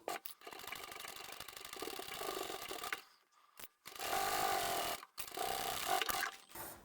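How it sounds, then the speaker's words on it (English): A sewing machine triple-stitches scrap fabric on a flat zippered tablet pouch, running in two long bursts of steady mechanical chatter, close and fairly loud, with a short pause between them and no speech. "I'm going to triple stitch over that, then I can just sew on to the end."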